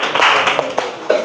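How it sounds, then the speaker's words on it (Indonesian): A school class applauding a classmate, with a short burst of many hands clapping together, loud and close, lasting about a second. "tepuk tangan dulu buat temannya."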